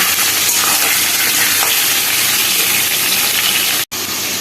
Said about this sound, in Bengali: এই মাংসটা না যখন এক মিনিট একটুখানি তেলের মধ্যে একটু নাড়াচাড়া করে নেবেন